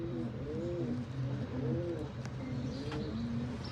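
A flock of healthy domestic pigeons cooing close by, with overlapping rolling coos repeating throughout, plus faint flutter; no talk.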